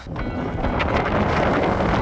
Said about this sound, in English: Ooh, that's gusty.